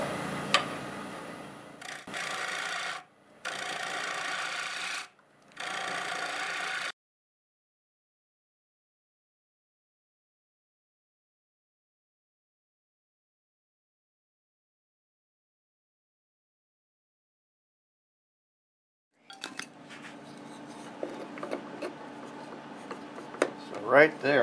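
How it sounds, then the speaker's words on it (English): A spalted Norway maple bowl spinning on a wood lathe at 1700 RPM is cut with a 5/8 bowl gouge, giving three close, rasping bursts of cutting, then a long silence before scraping resumes and grows louder toward the end. "I'm going to grab my 5/8 bowl gouge and we're going to remove this"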